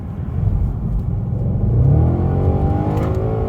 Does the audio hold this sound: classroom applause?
no